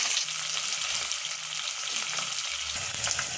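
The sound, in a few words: onion frying with chana dal and urad dal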